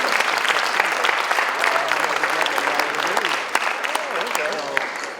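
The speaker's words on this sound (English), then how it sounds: "Give yourselves a huge round of applause." Audience at a charity fundraising event breaking into sustained, loud applause, dense clapping with scattered cheers and voices throughout.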